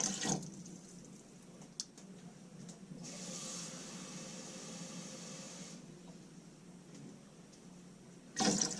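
Water poured from a cup into a soup pot for a vegan gluten-free lasagna soup, a steady splashing pour lasting about three seconds, moderately loud and close, with quieter kitchen handling sounds around it.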